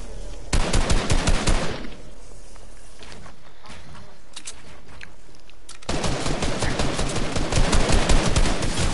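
Rapid machine-gun bursts in a video game rattle loudly in two long volleys, one at the start and one at the end, with a quieter lull of scattered shots between them.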